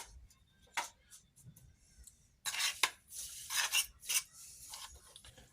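Scraping and clinking of a spoon stirring a homemade fire starter mixture in a container, sparse light ticks at first, then a louder stretch of busy scraping strokes close by.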